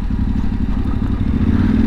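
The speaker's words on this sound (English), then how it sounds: "the bike is popping so much" A Yamaha Tenere 700 motorcycle rumbling loudly close by with rapid, uneven exhaust pops and crackles over a steady low engine drone.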